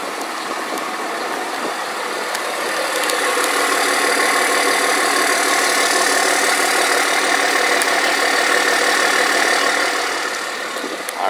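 A 2004 Dodge Ram 2500 SLT 4x4 pickup with the 5.9L Cummins diesel idles steadily, a loud, continuous engine drone with a faint knocking texture that swells slightly midway, with no talking.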